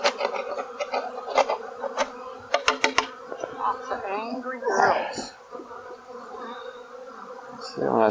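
Close, continuous buzzing of a crowd of honey bees in an opened hive, broken by a few sharp scraping clicks as the hive top is scraped, and some brief voiced sounds.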